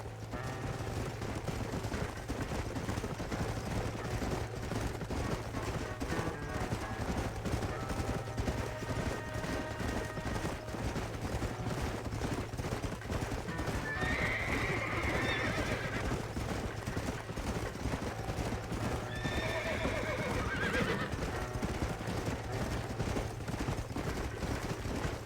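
Horses in the Red Dead Redemption video game clop steadily at a gallop throughout, with two clear whinnies rising midway over the continuous hoofbeats and a low rumbling backdrop.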